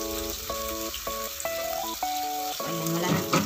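Loud, steady sizzling and crackling of chicken frying in a pot, with a few stirring clinks and scrapes and no talking.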